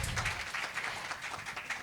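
Audience applause at a women's awards and calendar launch event, a steady wash of many hands clapping throughout, moderately loud with no clear talk over it.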